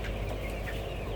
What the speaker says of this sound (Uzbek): Mana bitta xo'rozi bor ekan